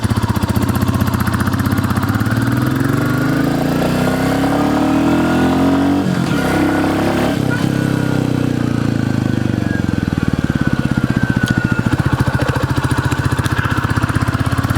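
A 2021 Royal Enfield Classic 350 thumps along while being ridden, its single-cylinder engine pulling from low revs with rising pitch, loud and close, mixed with wind rush and a brief dip midway.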